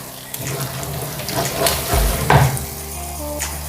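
Potato and spinach curry sautéing in a pan, a steady close sizzle with brief clatter of stirring and a louder burst near the middle, no talk over it.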